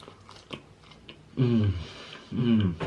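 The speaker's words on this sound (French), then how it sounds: "On va tester les frites maison sauce fromagère, c'est parti, avec de la bonne sauce cheddar" Two crunchy bites into homemade fries topped with cheddar cheese sauce, each a loud close chewing burst, the second following the first after a pause and quiet background.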